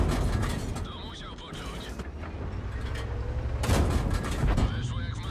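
Heavy tank cannon blasts and clanking mechanical game sounds from a World of Tanks battle with a Pudel tier 6 medium tank, with a big loud boom near the middle amid steady engine rumble and a voice talking over it.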